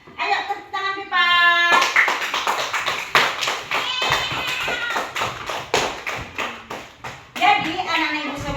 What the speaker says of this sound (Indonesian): Ayo tepuk tangan Pipa.